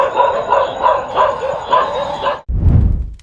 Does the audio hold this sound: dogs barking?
yes